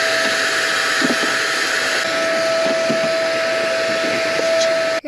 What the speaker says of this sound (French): Mais d'abord, faut passer l'aspirateur un peu.